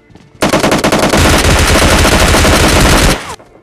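Mini14 rifle gunfire in the battle royale game PUBG Lite: a loud, rapid burst of continuous shots lasting nearly three seconds, then cutting off abruptly.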